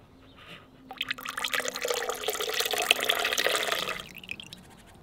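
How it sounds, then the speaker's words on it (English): Lemon mixture strained into water, about three liters, for a homemade seedling treatment: a soft trickle begins, then a strong continuous pour splashes for about three seconds before tapering off to a few drips. "strain the mixture into 3 liters of water,"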